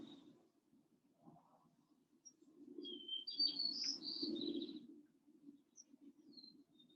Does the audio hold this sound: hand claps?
no